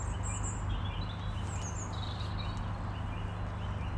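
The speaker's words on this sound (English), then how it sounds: "I love a bit of bird sound, it makes me feel quite cheerful" Birds chirp and trill in short, high bursts against a steady low hum of background noise, the calls fairly faint and scattered across the moment, with no talking.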